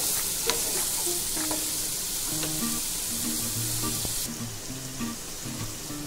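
Finely chopped onion frying in a pan hisses with a steady, close sizzle, broken by the scrape and clatter of stirring, while a faint tonal hum runs underneath.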